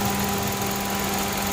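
A 2016 Mitsubishi Mirage engine idles with a steady, even hum and a faint mechanical rumble, running alone without any voices.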